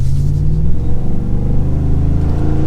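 A 2021 Ford F-150 V8 pickup drives along with a loud, steady engine rumble and a gradually rising drone, heard close up from inside the cab while the truck accelerates.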